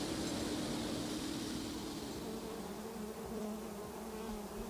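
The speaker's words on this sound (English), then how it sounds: "This beehive is swarming because it has 2 queens." A beehive swarming because it holds two queens gives a dense, steady buzzing drone of many bees. It is loud and continuous throughout, with no voices.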